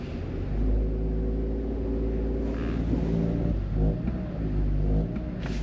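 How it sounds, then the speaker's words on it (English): A car engine with a cylinder 3 fault revs hard in gear against the brakes in a repair shop, a loud, close, rumbling roar that rises and falls in several surges, with no voices. "We'll put this thing in gear, see if we can do a little power brake action"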